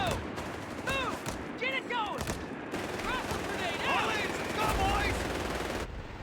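Machine gun fire rattles through a Company of Heroes 3 battle, sustained and mid-distance, mixed with shouted voices and other battlefield noise.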